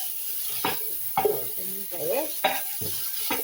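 Meat and yogurt frying in a pan, a steady hiss broken by repeated scraping stirs, while someone talks over it.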